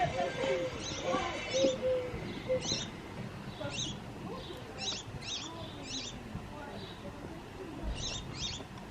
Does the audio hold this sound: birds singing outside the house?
yes